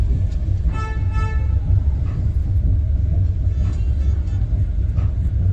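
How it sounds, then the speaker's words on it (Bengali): A train rolling into a station near Bhubaneswar and Cuttack in Odisha, heard from on board as a steady low rumble with faint tonal squeals and clanks as it slows, and no talk. "ট্রেনটার এখানে একটা স্টপেজ আছে মনে হচ্ছে স্টেশনটাতে, এই জন্য ট্রেনটা মনে হচ্ছে দাঁড়াবে।"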